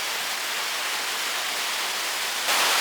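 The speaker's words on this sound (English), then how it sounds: "How nice is this little waterfall?" A small waterfall in the Brecon Beacons, South Wales, gives a steady, close rush of falling water, broad and even throughout, growing slightly louder near the end, with cold wind in the setting and no voices.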